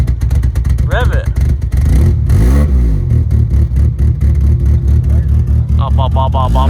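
A restored car's engine revs up loudly and close, with repeated surging blips over a rough idle after the choke kicks in. People talk intermittently over it.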